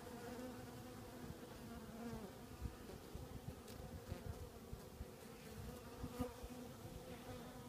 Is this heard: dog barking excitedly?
no